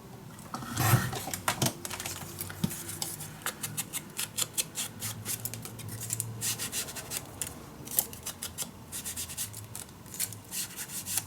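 Scissors cutting paper for a Stamperia Savana mini album made from envelopes, giving a steady run of soft, close snips and rustles throughout with no talking.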